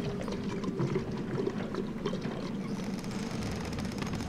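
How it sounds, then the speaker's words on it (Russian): Water pouring into vessels in the LEGO Ninjago Movie video game, a steady bubbling, gurgling liquid wash with a low rumble, moderately quiet and continuous. "давайте наполнять их водой"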